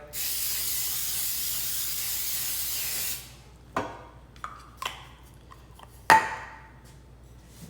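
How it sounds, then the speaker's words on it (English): A steady hiss of cooking spray onto a pan lasts about three seconds, followed by a few light clinks of the pan and utensils. "cooking spray."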